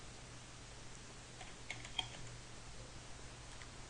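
Faint keystrokes tap on a computer keyboard in a quiet room, a few light clicks clustered midway over low background hiss.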